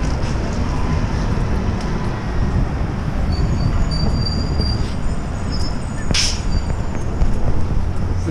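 A Long Island Rail Road train rolls steadily past at Flushing Main Street station, with continuous low rumbling, wheel noise and a sharp metallic squeal partway through, close and loud.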